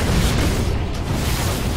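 An electric explosion spell from an elemental shaman in a World of Warcraft Legion battleground at the Temple of Kotmogu bursts as a dense, rumbling boom that fills the whole short moment, loud and close.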